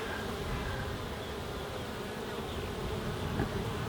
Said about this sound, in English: the bees are not all coming out at me